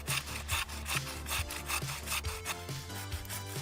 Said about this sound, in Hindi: इसके अलावा हम आरी को दोनों हाथों से पकड़ सकते हैं, जिससे हम और ज्यादा मेहनत से और तेजी से आरी चला सकते हैं।